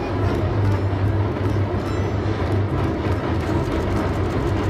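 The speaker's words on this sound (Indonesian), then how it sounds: "Ada kereta api Thomas" Steady loud rumbling and rattling of a Thomas toy train running continuously, close by, with a low humming motor underneath.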